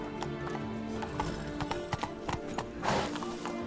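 Roach the horse galloping in The Witcher 3, with quick rhythmic hoofbeats clip-clopping close by, a whinny near the end and a faint voice underneath.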